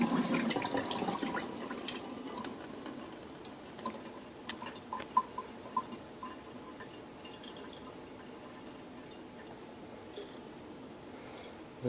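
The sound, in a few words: rinsing sprouted grains with filtered water in a strainer jar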